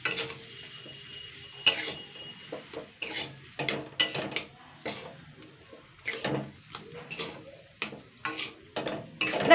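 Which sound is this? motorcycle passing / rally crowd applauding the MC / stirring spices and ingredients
stirring spices and ingredients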